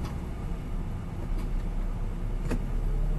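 Steady low rumble of a 1972 Chevrolet C-10 Cheyenne pickup truck heard from inside the cab while riding, with a continuous engine and road drone and a couple of faint brief clicks.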